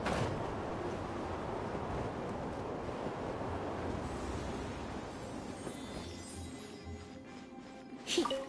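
Steady rushing wind current in Genshin Impact, a broad continuous whoosh with faint surf-like swells, moderately loud and sustained throughout, with a brief brighter gust near the end.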